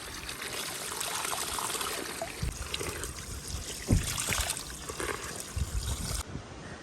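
Water from a mountain spring in Val Bartolo, Friuli, trickles steadily at close range, a continuous bright babble with occasional louder splashes, alone without voices.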